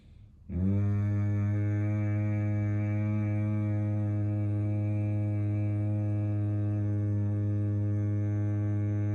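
A single long, steady Bhramari humming bee breath during a yoga session, a low rich hum held evenly for about nine seconds after a brief inhale, close and alone.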